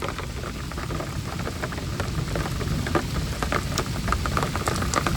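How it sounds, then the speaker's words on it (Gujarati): Heavy rain pours steadily over flooded farm fields, a dense, unbroken hiss with scattered sharper drop impacts, loud and close throughout with no voices. "લગભગ અડધો કલાક ધોધમાર વરસાદ અમારે પડ્યો અને અત્યારે હાલ પણ ચાલુ હો જોઈ શકો છો"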